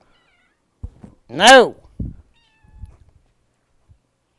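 A pet cat named Purdy gives a single clear, drawn-out meow at close range, framed by soft handling noises and brief thumps.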